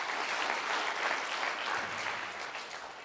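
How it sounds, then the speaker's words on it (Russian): An audience claps together in a sustained burst of applause lasting a few seconds, dense and even, fading slightly at the end. "Давайте им похлопаем"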